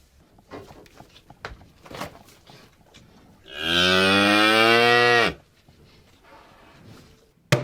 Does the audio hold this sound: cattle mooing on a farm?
yes